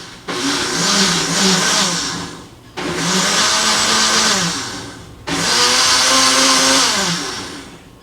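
A kitchen blender runs loud and close in three long bursts, each whirring steadily before winding down, with brief pauses between, while lemon and other fruit are blended for juice.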